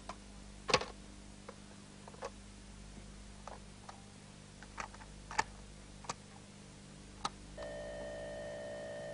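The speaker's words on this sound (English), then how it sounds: "that's the sound of the binary code" Binary computer data from a 1983 home computer recorded on audio cassette and played back on a regular cassette machine: faint hissy tape noise with scattered clicks, then a steady high electronic tone near the end.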